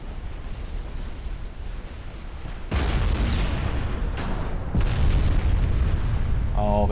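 Ship guns boom in a naval video game, a sustained rumbling barrage that swells sharply partway through and stays loud, with heavy layered blasts and no clear breaks.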